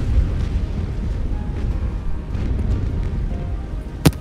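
Deep cannon broadsides rumble in a naval battle video game with British and French warships, a continuous heavy roar of booming fire with one sharp crack near the end.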